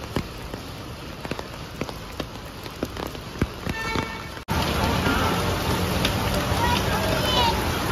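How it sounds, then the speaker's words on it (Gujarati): Heavy afternoon rain pours down steadily, a dense close patter on surfaces with scattered sharper drops, growing louder and fuller after a brief cut midway. "ધબધબાટી વરસાદ ચાલુ છે"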